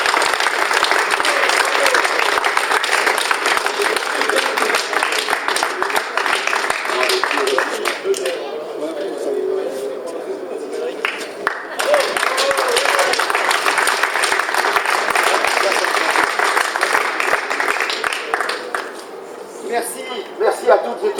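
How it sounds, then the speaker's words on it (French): An audience at the Trophée KIDAM 2012 prize-giving applauds the overall winner: loud, dense, sustained clapping that fills the room, easing briefly midway, with a few voices mixed in. "Messieurs, dames, applaudissez Geoffroy Lelièvre"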